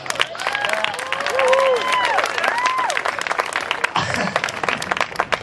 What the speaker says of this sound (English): we should give ourselves a round of applause for that.